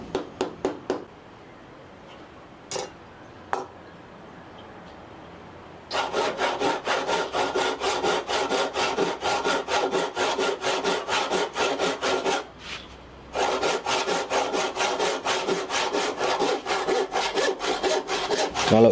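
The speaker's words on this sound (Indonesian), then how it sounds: "Kalau gergaji potong biasanya kalau dipakai untuk membelah seperti itu." Hand crosscut saw cutting through wood, a steady run of rapid rasping back-and-forth strokes after a few isolated scrapes, with one short pause midway, loud and close with no talking.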